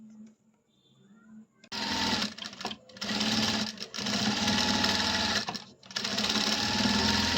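A sewing machine stitching a puff sleeve on a blouse, starting after a quiet moment and running in fast, steady bursts with short pauses between them.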